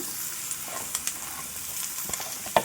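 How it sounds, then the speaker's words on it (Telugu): Ridge gourd pieces sizzle steadily in hot tempering oil with onion and green chilli, a close, continuous frying hiss with occasional sharper pops and stirring scrapes, no talking. "నేను కట్ చేసి పెట్టుకున్న ఈ పొట్లకాయ ముక్కల్ని ఈ పోపులో వేసేస్తున్నాను"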